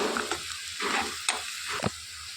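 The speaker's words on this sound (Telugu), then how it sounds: "ఇలాగా సన్న సగ మీద ఒక పది నిమిషాల పాటు వేయించుకోవాలి" Egg garlic masala sizzling and frying on a low flame in a pan, a steady close hiss broken by a few soft scraping stirs, with no voices.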